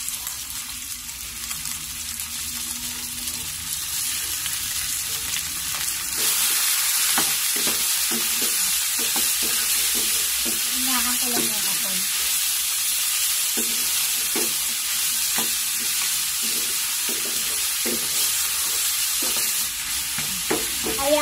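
Pork ribs sizzle and fry in a pan with onion and garlic, with a steady loud hiss and intermittent stirring scrapes and clatters close by, no talking.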